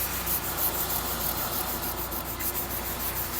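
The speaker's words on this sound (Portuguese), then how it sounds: "Então eu vou agora só correr uma lixa 320 aqui por tudo" Hand sanding a surface with 320-grit sandpaper before priming, a steady, close, loud scratchy rubbing with faint rhythmic strokes, continuous and without speech.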